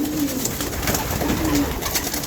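Soft, low pigeon coos repeat over a steady background hiss, with young homing pigeons murmuring close by at water and no talking.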